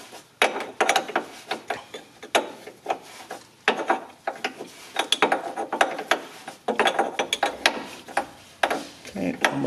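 Ratchet tightening an oil fitting on a car's dry sump oil system, heard up close as a run of quick clicking bursts in an uneven rhythm with short pauses between strokes.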